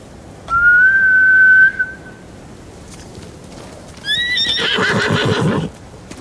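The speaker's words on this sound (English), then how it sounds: "Bastards scared off the horses." Horses in the samurai game Ghost of Tsushima: a sharp whistle first, then a loud horse whinny with hoofbeats clattering briefly before fading, no talk over them.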